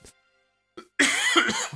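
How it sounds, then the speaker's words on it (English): A couple of short coughs, the first brief and soft, followed by a longer, louder burst of harsh coughing close to the microphone. "they're making me cough"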